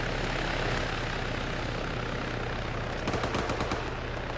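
A helicopter flies in the video game Arma 3, its engine a dense continuous drone with a rotor throb, joined near the end by a quick burst of rapid gunfire.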